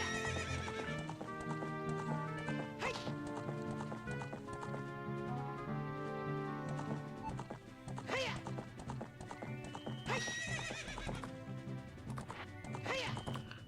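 A horse in the video game Ocarina of Time, with loud clip-clop hooves and sharp whinnies over game music, plus a few thuds as it charges and bucks.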